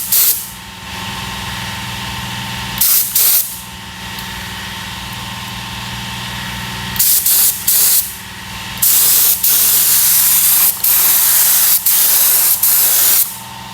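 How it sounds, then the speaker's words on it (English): Spray gun loaded with paint thinner sprayed onto a test panel during a BMW X3 M40i body repair, several sharp hissing bursts of varying length, loud and close, over a steady compressor-like hum between passes. "It's already drying out because we are using paint thinner inside the gun, so we don't waste any paint."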